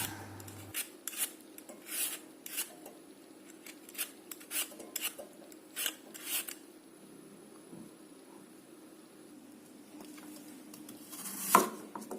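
Two apples being peeled with a knife, faint scraping strokes repeating in an irregular rhythm close by, with a few sharper clicks and a brief louder knock near the end.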